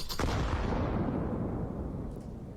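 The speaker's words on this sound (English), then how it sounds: "Frag grenade goes deep, but there's nobody there to be met by that damage" In a Counter-Strike match on the Inferno map, a frag grenade goes off with a loud, deep boom that rolls away into a fading rumble.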